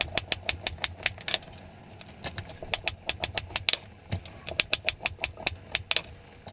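Sweet potatoes are cut into pieces with a knife on a board, giving quick bursts of sharp, clicking chops in rapid runs with short pauses between them, close and steady, with no voices.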